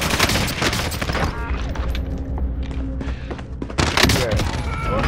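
Rapid, dense bursts of video game gunfire inside a prison setting, with heavy, near shots that overlap almost continuously and voices mixed in underneath.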